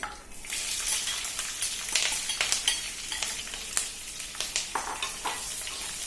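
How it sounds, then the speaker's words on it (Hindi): Green chilies fry in hot oil as a tempering for chutney, giving a steady close sizzle with crackling pops and occasional stirring scrapes, no voices. "हरी मिर्ची को हमें अब तेल में अच्छी तरह से पकाना है।"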